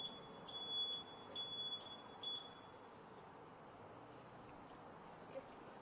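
A steady high electronic beep repeats about six times in quick regular succession, then stops, over a low murmur of background noise.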